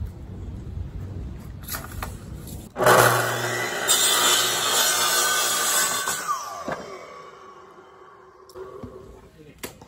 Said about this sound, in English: That's the grown-up saw.